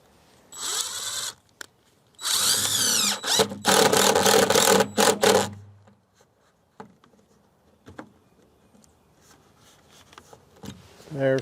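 A power drill drives long screws into wood to mount a solar LED security light, two loud whirring bursts with rising pitch, followed by quieter clicks and handling noises nearby.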